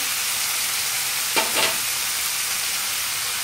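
Mutton cooked down in oil with turmeric, chili and salt, stirred once in a pan: a brief double scrape-and-sizzle burst rises mid-clip over a low, steady background hiss.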